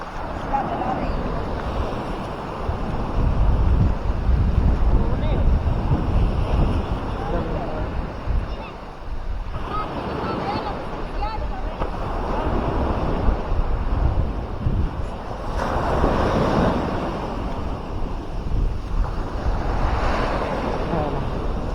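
Strong sea current and waves churning where a river meets the sea, with heavy wind buffeting the microphone; a loud, continuous roar with surging swells, and a voice may be heard under the noise.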